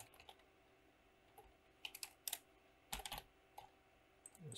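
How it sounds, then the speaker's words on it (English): Typing on a computer keyboard, with quiet, close clicks that come in short irregular bursts and brief pauses, and no voice over them. "type in your domain name here"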